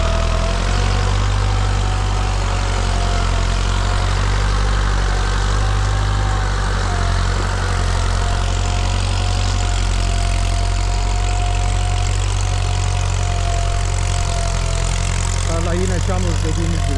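A loud, steady Başak 2073 tractor engine drone with a low rumbling idle runs throughout, close and unbroken, during deep ploughing of a muddy field.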